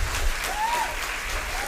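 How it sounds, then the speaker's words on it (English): An audience claps in a steady burst of applause, with a faint whistle rising briefly above the clapping. "a huge round of applause to them."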